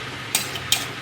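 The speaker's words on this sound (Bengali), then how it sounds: "যত নাড়বো তবে সবজির সঙ্গে মাখবে, নাহলে এক জায়গায় ডিমটা" A spatula scrapes twice through egg and spring onions in a pan, two quick, crisp strokes over a low, steady sizzle.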